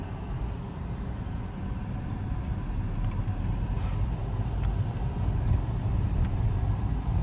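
A car drives slowly through a narrow lane with speed breakers. Its low, steady engine and road rumble is heard from inside the car, with faint ticks and no talk.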